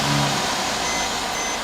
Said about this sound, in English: We need the car running though, so I'm going to start it.